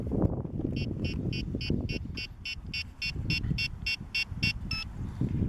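A WLtoys F949 Cessna 182 micro RC airplane's 2.4G transmitter plays a rapid series of about fourteen short, evenly spaced electronic beeps over low background rumble, ending with a slightly longer tone.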